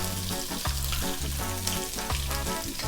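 Chopped onion dropped into garlic already frying golden in a pan, a loud steady sizzle with bursts of crackling as it hits the hot oil, close and continuous with no talking.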